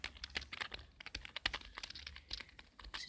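Rapid typing on a cheap computer keyboard, with close, crisp keystrokes clicking in an uneven stream and no talking.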